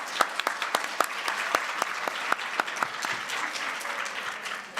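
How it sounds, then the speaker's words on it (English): An audience at a conference panel on the ICTY legacy applauds, a dense patter of many hands clapping steadily for several seconds before tapering slightly at the end. "please a round of applause for our speakers"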